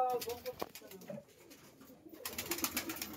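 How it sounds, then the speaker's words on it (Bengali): A large cage holding nearly three hundred tumbler pigeons gives off overlapping soft cooing, with rustling and a brief louder stretch of noise toward the end. "দেখুন কতগুলো পায়রা"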